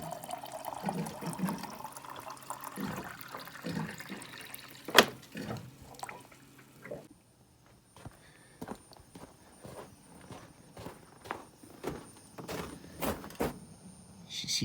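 Cold water runs from a tap into a sink, the pour softening and breaking into scattered drips and knocks as it goes on.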